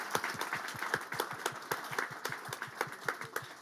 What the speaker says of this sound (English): Let's give everyone a round of applause one more time